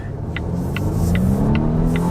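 A 2020 Volvo V60 Cross Country accelerates, its all-wheel-drive engine note climbing steadily in pitch as it revs up close and loud. Faint periodic ticks repeat under the rising drone.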